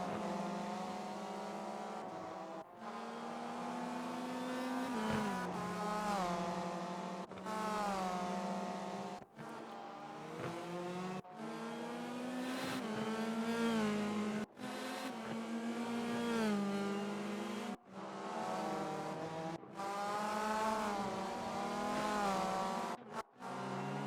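A four-cylinder turbocharged front-wheel-drive race car engine in the Rennsport racing game, heard onboard: a loud, continuous rasping drone that climbs in pitch through each gear, broken by brief sharp dips at every upshift, with no talk over it.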